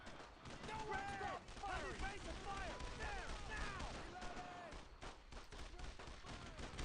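Gunfire from a WWII video game rattles in a continuous battlefield din of shots and bursts, with whistling and whining sounds overhead throughout.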